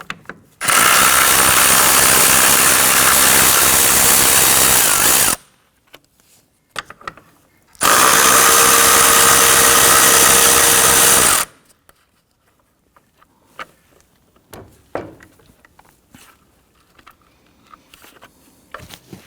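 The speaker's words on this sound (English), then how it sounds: "loosen and remove these two bolts." A power tool drives a 10mm socket to loosen and remove bolts on a Hyundai Elantra, in two loud, steady whirring bursts of several seconds each, separated by quiet gaps with faint clicks and handling noises.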